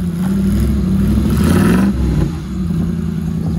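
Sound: Dodge 4x4 truck engine revving after getting stuck

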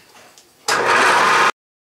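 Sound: milling machine starting with a 3/4 inch carbide cutter

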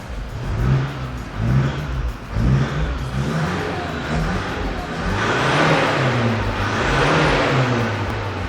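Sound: car engine revved hard to about 4,000-5,000 rpm

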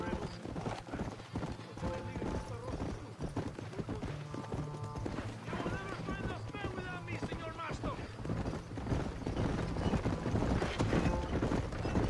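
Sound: horses' hooves clip-clopping in video game Red Dead Redemption

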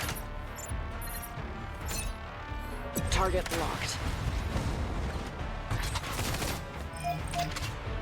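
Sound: gunfire from skill attack in the video game Mecharashi

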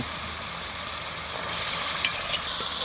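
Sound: sautéing potato and pointed gourd in spice paste

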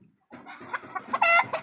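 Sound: rooster

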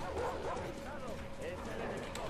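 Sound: dog barking in video game Metro Exodus

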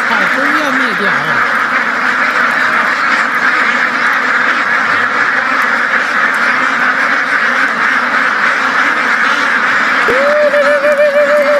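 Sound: flock of ducks quacking while weeding

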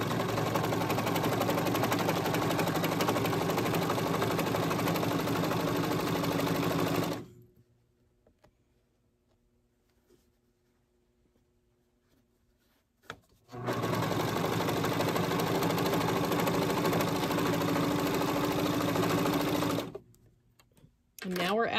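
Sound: serger stitching rolled edge on jersey knit fabric

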